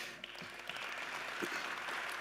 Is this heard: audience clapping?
yes